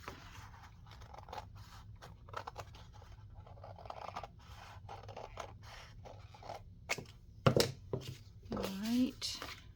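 Scissors snipping paper to make a tag for an autumn-themed junk journal, giving light, close cutting and scraping sounds, followed by someone speaking briefly near the end.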